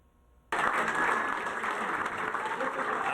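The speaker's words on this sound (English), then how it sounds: "you can see right now a large crowd gathered here at Bell's on Market Street" A large crowd of election-night supporters cheers and applauds at a candidate's headquarters in a downtown Lexington venue on Market Street, starting abruptly after a half-second of quiet and then roaring steadily and loudly.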